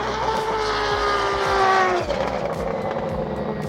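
Drift cars in Japan roar past one after another, engines wailing and pitch sliding down as they pass close by, loud and continuous.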